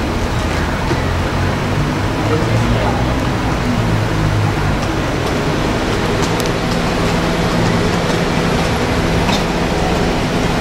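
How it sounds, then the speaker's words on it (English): A steady, dense rumble of a train rolling past nearby, loud and continuous with rattling and clatter throughout, no voices. "There's a train coming."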